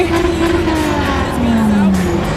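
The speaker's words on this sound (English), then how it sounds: "Everyone's revving, because you know we're leaving the location." Car engines rev steadily as cars leave a car meet, loud and continuous with a pitch that slides and dips, people talking amid the noise.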